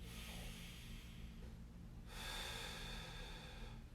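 A slow, deep breath drawn in during a mobility stretch for the neck, feet and low back, quiet and close, its airy rush swelling partway through and holding steady to the end.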